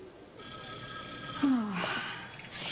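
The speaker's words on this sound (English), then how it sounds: "Shannon, your phone is driving me crazy." A telephone ringing indoors in a 1987 soap-opera scene, a repeated electronic bell tone that starts after a moment and keeps going, with a voice and other sounds briefly overlapping partway through.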